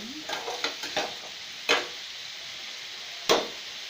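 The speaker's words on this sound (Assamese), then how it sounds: "মই ভালকৈ লৰাই দিছোঁ।" Pumpkin and paneer stirred in a frying pan, heard as a few light scrapes and clacks of a utensil against the pan over a faint sizzle, with two sharper knocks spaced apart.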